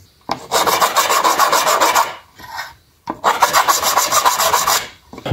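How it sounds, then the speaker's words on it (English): A metal file rasps along the sharp burred edge of a 3D printed 5.8 GHz FPV antenna in two sustained strokes, close and loud, with a short pause between them. "I'm just cleaning up the edges with a file"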